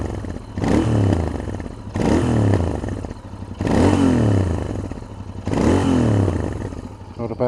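A Royal Enfield Interceptor 650 engine is revved four times in even bursts, each rising and falling back to a rumbling idle, heard close up.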